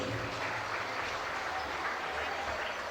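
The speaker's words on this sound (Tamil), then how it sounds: "மீண்டும் ஒரு முறை அனைவருக்கும் அரங்கம் நிறைந்த கைத்தட்டுகள்" Applause from an audience filling a hall at a Tamil folk arts evening, a steady wash of clapping held at a moderate level throughout with some faint voices mixed in.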